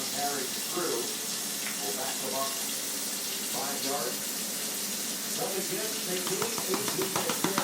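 Hot water runs from a kitchen tap during pizza dough preparation, a steady broadband rush with a voice speaking over it in the first half and some splashing toward the end.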